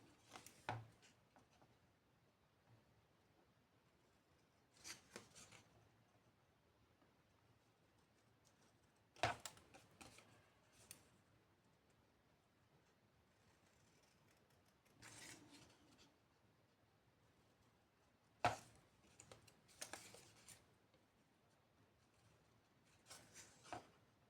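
Scissors cut paper straight for a craft pocket, a few separate crisp snipping strokes spaced several seconds apart, close and quiet against near silence.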